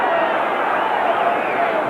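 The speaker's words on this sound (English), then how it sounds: "Crowd alive for a change." A boxing crowd at an Ali versus Bonavena bout roars steadily, a dense, loud wash of cheering and murmur that stays continuous throughout, with a commentator talking over it.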